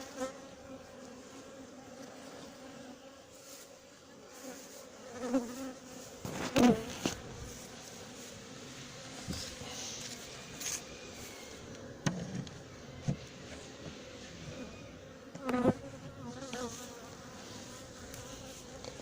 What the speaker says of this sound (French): on voit qu'il y a quand même vachement d'abeilles dans la colonie